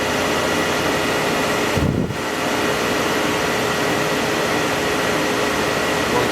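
Steady broadband whir of a Myford MG12-HPM outside-diameter grinder running, with a constant motor and machine hum, close and fairly loud, with a brief dip near the two-second mark and no talk.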